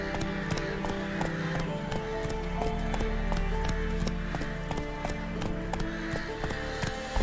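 Horse hooves in the video game The Witcher 3 clip-clop at a steady trotting rhythm, close and clear over a continuous bed of game music.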